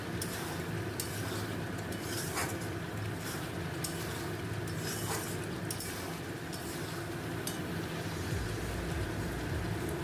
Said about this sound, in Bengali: কুচনো ধনে পাতা দিয়ে আর খানিকক্ষণ একটু কষে নেব